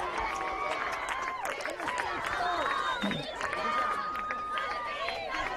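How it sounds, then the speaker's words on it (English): Football crowd at a high school game in Mapleton roaring after the Royals' 20-16 win, their first since 2017; loud sustained cheering and whistles with chatter and a voice over it. "The crowd is in a frenzy here."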